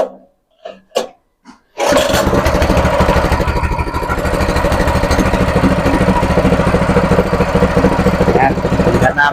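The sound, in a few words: gasoline water pump engine starting and running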